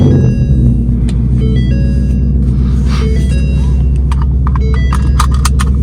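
Straight-piped Mustang fires up and settles into a loud, deep rumbling idle with a heavy low drone, heard close from inside the car, with faint clicks and jingling over the engine.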